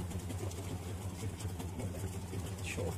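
A boat motor runs on the Dourados River in Mato Grosso do Sul, giving a steady, fairly faint low drone with no break for the whole moment.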